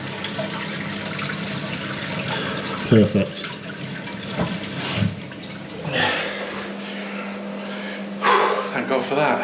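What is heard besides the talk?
toilet being flushed after plumbing repair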